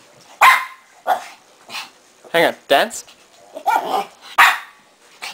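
A pet dog barks on command indoors, giving a series of short, loud, high yips and barks at close range spaced about half a second to a second apart, with a person's brief spoken commands mixed in between.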